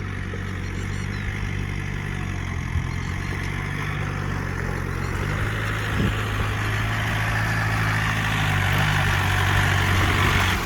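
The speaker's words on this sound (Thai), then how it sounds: "กับสมรรถนะการทำงานของรถแท็กเตอร์ คันนี้ครับผม" A Yanmar EF514T tractor runs in a wet, muddy paddy field, its engine a steady, loud low drone with a constant idling rumble and no pauses, with no voices heard.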